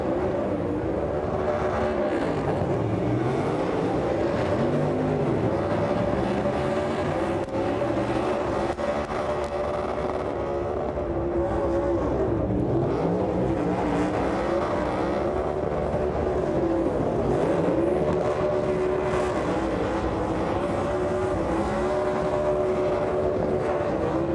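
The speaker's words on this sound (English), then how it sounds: "Going to do a burnout right here in front of everybody in the stadium." A NASCAR race car does a burnout in front of a stadium crowd in Mexico City, giving a loud, continuous engine roar with tire noise that rises and falls in pitch, steady throughout with no talk over it.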